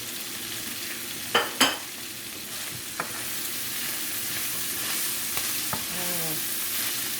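Cabbage and pak choi stir-frying in a lightly oiled pan for Jamaican-style ackee and saltfish, a steady close sizzle with a few sharp scrapes and clatters of the utensil early on, no voices.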